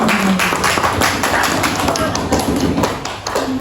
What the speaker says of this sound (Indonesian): boleh dong tepuk tangan untuk Bu Sintia